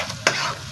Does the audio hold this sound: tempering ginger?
yes